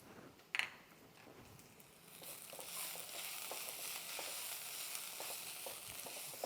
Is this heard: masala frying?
yes